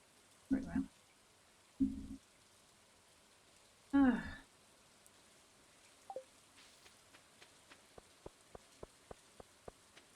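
Rain falling on the tropical island in the video game Stardew Valley: a soft, steady hiss of in-game rainfall runs under a few short voice bursts and a series of light clicks.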